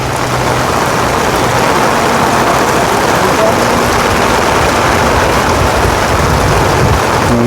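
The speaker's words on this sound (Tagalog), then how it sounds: "Ang lakas ng ulan po" Heavy rain pours down in a dense, continuous roar, loud and unbroken throughout, during a red rainfall warning.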